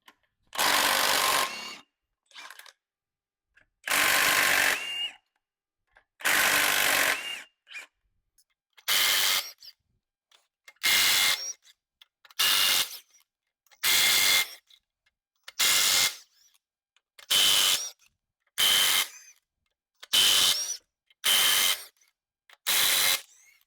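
Power tool bursts loosening bed plate bolts on a 6.0 Powerstroke diesel engine, working from the outside bolts inward: about thirteen loud whirring-ratcheting runs of a second or so each, separated by short silent pauses, with no talk.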